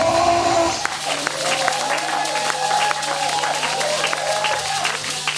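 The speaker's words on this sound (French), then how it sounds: "Faisons monter le nom de Jésus par des acclamations." A church congregation bursts into applause and cheering acclamations praising Jesus, a sustained wash of clapping and crowd voices at steady volume from start to finish.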